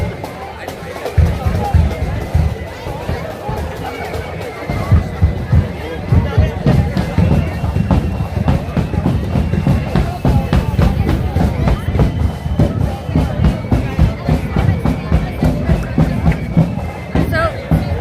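Busy crowd chatter outside a pub during a Ballyclare Protestant Boys parade day, a dense, continuous babble of overlapping voices close by, with occasional louder bursts and nearby talk throughout.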